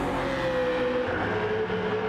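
A little BMW Z4 race car engine accelerating through a corner in a racing event, a loud, close, sustained rising whine with steady harmonic tone lasting a couple of seconds.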